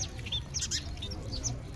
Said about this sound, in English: The birds are like eating, pecking at each other.